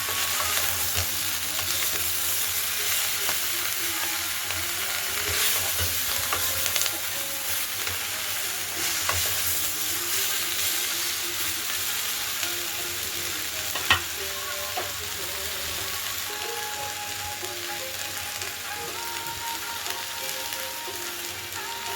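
Potato, onion, cauliflower and bean vegetables frying in a pan, a steady close sizzle with scraping stirs throughout, no talking.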